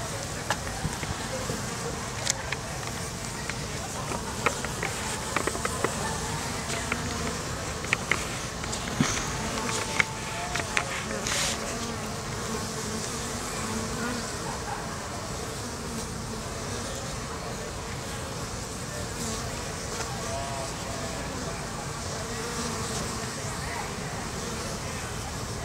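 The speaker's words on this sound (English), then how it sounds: "Bees." A dense, steady hum of many bees buzzing close at a hive entrance, with scattered louder passes as individual insects fly near; faint talk and handling noises sit underneath.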